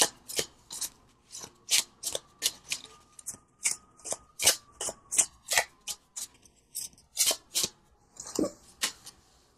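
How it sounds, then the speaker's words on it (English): Tarot cards from a Tarot of a Moon Garden deck being shuffled and pulled, a quick series of crisp riffling and slapping bursts in an irregular rhythm, close and fairly quiet with no talk. "I'm going to pull from the Tarot of a Moon Garden."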